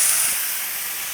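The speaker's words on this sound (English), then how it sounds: "throw some water in here, and let the steam do some cooking" Water thrown onto a hot Blackstone griddle under its closed lid, with potatoes, sausage and cheese cooking, gives off a loud, broad steam hiss. The hiss is strongest at first, then eases to a steady sizzle with no talking.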